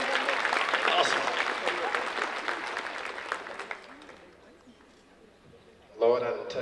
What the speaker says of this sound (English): Y'all give this lady a round of applause right here.